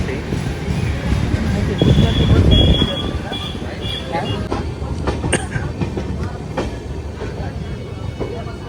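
A passenger train rolls along the rails on the approach to Haridwar station, a steady rumble and clatter heard from inside the carriage, swelling briefly early on with faint squeals and clicks over it.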